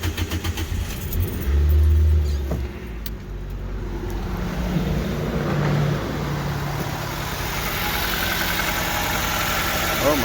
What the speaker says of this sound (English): Gotta start it. Let's see how it sounds.